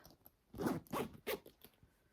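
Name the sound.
zipper on the back pocket of a purse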